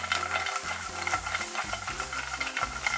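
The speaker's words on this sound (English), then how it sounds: "We got a little bit of oil coming in. We'll saute this off." Garlic, ginger, lemongrass and chili sauté in hot oil in a pan hot enough to flare, giving a loud constant sizzle with frequent scraping stirs and light metallic clinks, near and without talk.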